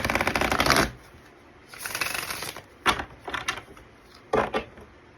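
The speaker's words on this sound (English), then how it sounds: "Three shuffles." Tarot cards shuffled by hand in several quick riffling bursts separated by short pauses, close and fairly loud, with no talking.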